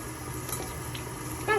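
A dusky conure bathes in water, giving soft, faint splashing and sloshing with a brief bird call near the end.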